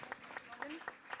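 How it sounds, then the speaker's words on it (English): An audience at a coastal sea-level-rise forum breaks into brief applause for a panelist, close, scattered clapping under a speaking voice. "So warm round of applause for our first panelist"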